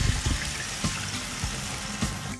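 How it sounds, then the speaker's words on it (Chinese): Water pours into a hot wok of minced meat stir-fried with garlic, soy sauce and soybean paste, a steady rushing splash with a few soft knocks, close and without speech. "倒入适量的清水"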